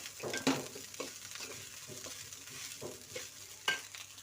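Paneer is stirred into fried rice in a hot pan: soft sizzling with scraping spatula strokes and a few sharper knocks against the pan, fairly quiet and close, with no talking.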